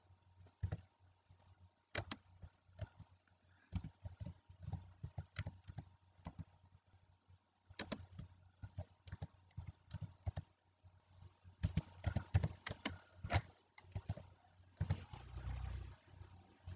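Typing on a computer keyboard to enter multiple-choice options in a Google Form, with quiet irregular bursts of key clicks and short pauses between words.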